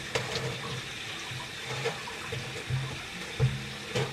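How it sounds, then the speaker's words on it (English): A container is filled with water while beeswax is being harvested, and the steady splashing runs the whole way through with a few louder gurgles, close up and with no one talking. "So now I'm going to fill this with water."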